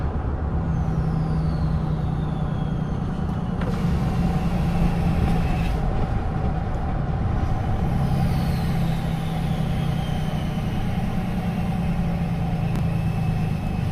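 A 2019 high-output Cummins diesel truck with a loud, steady engine drone and exhaust brake, heard close from inside the cab, with sweeping whine tones rising and falling over the continuous rumble.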